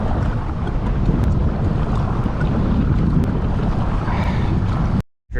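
Strong gusts of around 20 miles an hour buffet the microphone while kayaking on open water, a loud continuous roar of wind noise mixed with lapping waves, cutting out briefly near the end.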